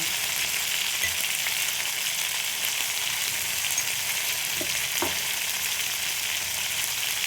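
Poppy seed paste with turmeric fries in a pan, a steady close sizzle with a couple of faint stirring knocks.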